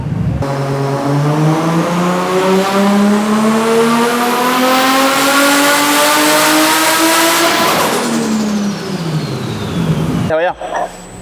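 A Nissan R32 GT-R engine on a dyno climbs in one long, loud rev, its pitch sweeping steadily upward before it cuts off and the revs fall away, with a brief clatter at the end.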